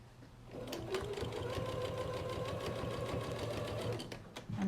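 A sewing machine runs steadily for about four seconds, stitching down quilt binding, a close, even motor whir with a rapid needle patter, starting and stopping cleanly with no talking.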